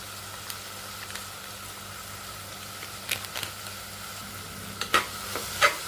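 Rice and lentils in a pan with garam masala being stirred in, a soft low sizzle under a steady hum, then a few spoon scrapes and clinks toward the end, no speech.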